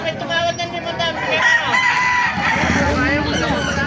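Roosters crow and hens cluck among the caged birds of a busy poultry market in Baliuag, Bulacan, loud and close, with people chatting in the background.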